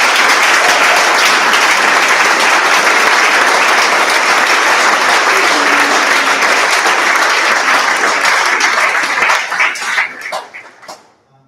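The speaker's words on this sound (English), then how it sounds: "just a round of applause for all of them" Audience applause for scholarship donors at a FarmHouse Fraternity Founders Day 2022 gathering at Iowa State University: dense, steady clapping from a full room that holds evenly, then thins out and fades to scattered claps near the end.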